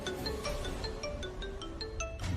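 A mobile phone rings on unanswered in an indoor scene from a Hindi TV drama, with a steady repeating electronic ringtone of short tonal beeps carrying through the whole stretch at moderate loudness, alone with no talking.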